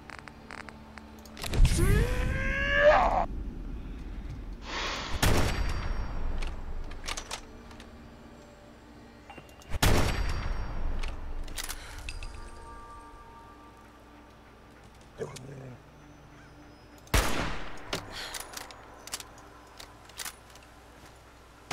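Gunfire in Fallout 4 rings out as several loud, separated bangs with ringing tails, spaced seconds apart over a quiet background with faint clicks and rattles between shots.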